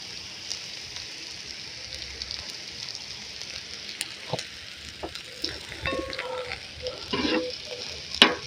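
Marinated shrimp sizzle in olive oil in a pan over a flame: a soft, steady frying hiss with scattered crackles and pops that grow busier and louder toward the end.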